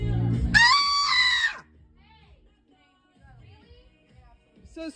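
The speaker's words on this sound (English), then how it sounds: "Okay, well that doesn't mean you can just scream in our store." A woman screams loudly inside a store: a long, shrill, high-pitched shriek that lasts over a second and stops abruptly, followed by quiet talk in the background.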